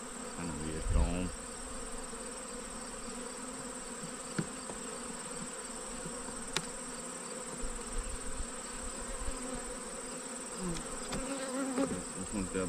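Honeybees drone steadily around an open hive during an inspection, a continuous soft buzzing close by, with occasional louder passes and a few faint handling knocks.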